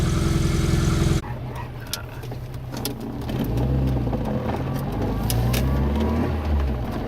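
A Mini car drives along the road, its steady engine drone and tyre rumble rising and falling slightly as it moves, after a brief louder start.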